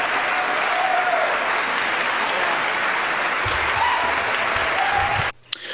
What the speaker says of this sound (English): So that applause goes on for some time.